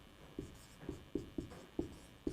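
Chalk or marker taps and scratches on a board during a physics lesson, six short, evenly spaced strokes in a steady rhythm, close and fairly quiet in a calm room.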